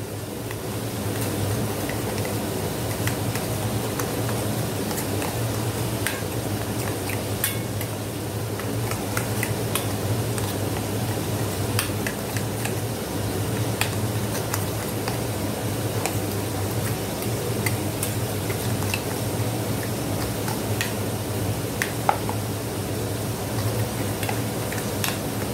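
A spice mixture whisked in a bowl for chicken do piaza, a steady run of quick close clicking and tapping strokes that continues evenly with no talk.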